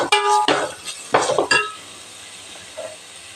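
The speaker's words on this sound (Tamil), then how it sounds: "கருவேப்பிலை பொடி பொடியாக நறுக்கிருக்கேங்க. அதையும் நம்ம வதக்கிக்கலாம்" Chopped curry leaves sizzle and crackle briefly in a hot pan, with a few metallic clinks and stirring scrapes, then a quiet hiss.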